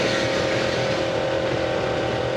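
A historic racing car at Goodwood Revival approaches a corner, its engine a steady loud roar with a strong sustained tone, heard near and continuous without change in pitch.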